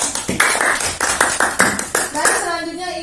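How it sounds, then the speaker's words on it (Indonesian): Children in a classroom clapping together during an environmental education lesson, a close group of claps in loose bursts with brief gaps, ending in a ringing tail. "Tepuk tangan untuk kita semua."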